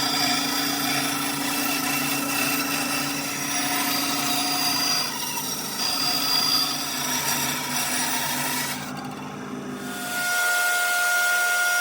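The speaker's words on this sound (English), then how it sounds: "We'll just trim this excess off on the bandsaw." A bandsaw trims excess wood from a Fender Jaguar Johnny Marr style guitar build, a steady loud whir with the blade cutting continuously before the motor cuts out and the sound drops away near the end.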